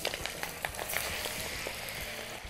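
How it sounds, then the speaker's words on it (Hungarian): Quartered boiled potato wedges fry in hot fat in a pan, giving a steady close sizzle with small crackles and pops throughout. "és ugyanabban a zsírban kisütjük"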